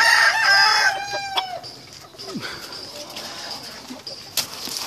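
A fighting cock kept as a breeding stud in Morelos crows loudly and close at the start, then gives quieter clucks and calls afterward.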